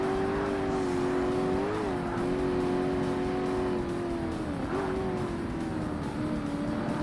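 A race car engine in the 2005 Xbox game Forza Motorsport at a professional classic sports car event, droning loud and steady at high revs, dipping briefly twice as gears shift, alone without talk.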